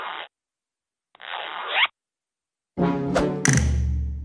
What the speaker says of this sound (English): Zipper.